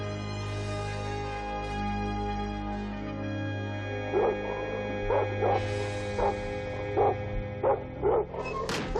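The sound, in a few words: dogs barking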